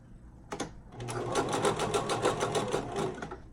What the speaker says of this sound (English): And you just want to sew them together.